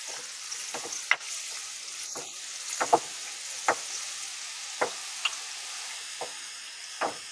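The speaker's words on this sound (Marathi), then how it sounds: "आता इथे गॅसची फ्लेम मी मिडियम करत आहे टोमॅटो पटकन भाजून होण्यासाठी" Tomatoes fry over a medium gas flame for Maharashtrian varan, a soft, steady sizzle with a dozen or so crisp ticks and spatters spread through it.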